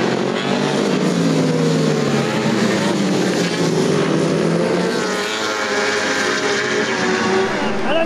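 Race cars roaring past each other during an overtaking attempt in a race, a loud sustained engine howl with shifting pitch that stays dense throughout, under an excited commentator's voice.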